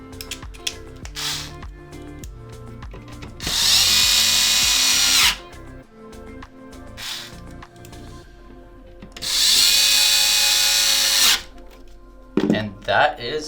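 A small electric screwdriver with a T10 bit drives the last two screws into an Xbox One X power button board, giving two loud whirring bursts of about two seconds each, separated by quieter clicks and handling noise.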